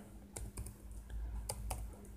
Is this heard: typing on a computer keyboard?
yes